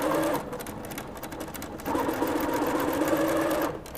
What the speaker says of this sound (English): This other rectangle, stick it on the opposite side, right sides together, and sew that side